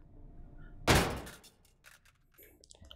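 A flashbang grenade goes off in the VR shooter Hot Dogs, Horseshoes & Hand Grenades: one sharp, loud blast that fades over about half a second, followed by quiet clatter.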